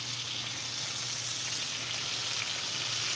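Sirloin steak searing in a hot pan, a steady loud sizzle and crackle of fat holding constant and unbroken throughout, close up with no talking.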